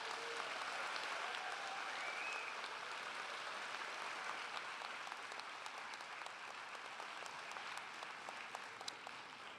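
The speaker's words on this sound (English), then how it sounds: "if we could have a round of applause for the members of the faculty" An audience at a school commencement ceremony applauds the faculty. A steady, dense wash of clapping from a large crowd holds at an even level throughout, with no voices above it.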